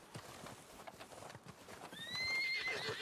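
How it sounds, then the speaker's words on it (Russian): A horse in Red Dead Redemption whinnies loudly and close in the second half, its shrill neigh rising over a steady run of clip-clopping hooves. No voices are heard. "Конь беспокойный, чует что-то неладное."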